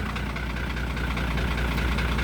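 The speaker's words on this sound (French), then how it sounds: "écoutez le moteur" Farm tractor engine idling, a loud, steady, low rumbling drone with a continuous even knock close by, no voices over it.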